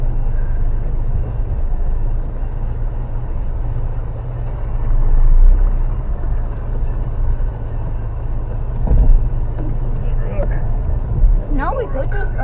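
An off-road Chevrolet ZR2 truck crawls over rocks in the desert near a waterfall, its steady low rumble running throughout with occasional bumps and knocks, while voices talk over it.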